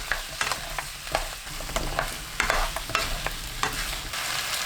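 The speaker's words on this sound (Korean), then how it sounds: "양념 넣고 1분 30초 볶아주세요" Radish and onion are stir-fried with seasoning in a pan, with close, repeated scraping and clacking stirring strokes over a continuous sizzle, no talking.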